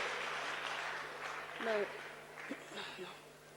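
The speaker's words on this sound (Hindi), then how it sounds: "एक बार अपने लिए जोरदार तालियां बजाइए" Applause from an audience at a Hindi-Urdu kavi sammelan poetry gathering, a soft, steady wash of clapping that holds throughout at a distance, with a few brief voices rising through it.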